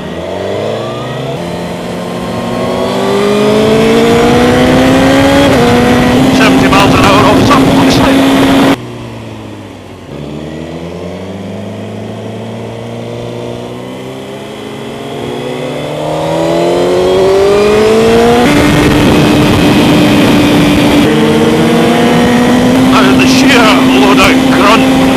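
Triumph Speed Triple R motorcycle engine revving hard through the rev range, rising in pitch in repeated loud, close accelerating pulls with a brief dip between runs.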